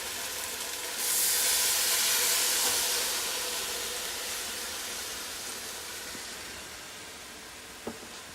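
Liquid hits a hot pot of caramelizing pork, setting off a sudden loud burst of steam that hisses strongly, then slowly fades over several seconds.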